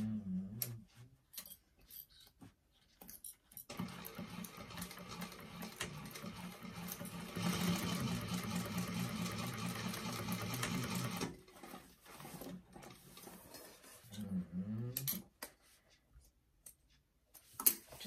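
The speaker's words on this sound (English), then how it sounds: "we're going to sew from there to there, making sure you backstitch at each side" A sewing machine stitches a seam on a tote bag, running steadily in bursts with a dense, rapid mechanical patter that swells loud in the middle and then stops and restarts, close by with no talk.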